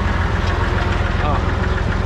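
Ursus tractor engine idling steadily with a low, even rumble and slight knock, fitted with a front loader carrying a bucket of stones; someone talks over it throughout.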